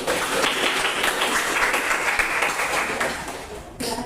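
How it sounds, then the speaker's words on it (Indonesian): Group of students applauding at the close of a university classroom teaching session, dense continuous clapping held steady throughout and tapering slightly near the end. "mari kita beri aplaus"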